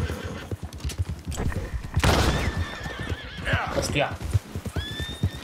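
A horse in Red Dead Redemption II gives a loud whinny, then a shorter neigh near the end, over hoof clip-clops and game noise while someone talks.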